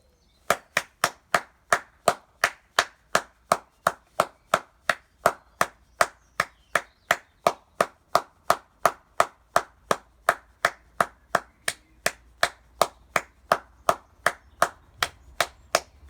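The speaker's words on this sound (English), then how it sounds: "Now, it'd be great if you could join in at home and just clap." A single person claps hands in a steady, even rhythm of sharp, loud, close claps, about two per second and sustained throughout, with no talking.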